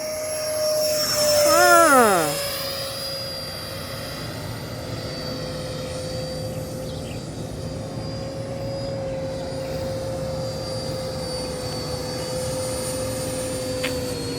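A Yak-130 90mm Freewing RC jet at an RC airfield in Lopburi screams past, loud and close, its whine sweeping down in pitch as it climbs away, then leaving a steady, fainter high drone.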